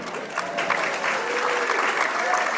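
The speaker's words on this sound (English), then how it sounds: "You can clap for him too." An audience at a ukulele festival evening show claps steadily for a couple of seconds, a dense, even patter of applause filling the room.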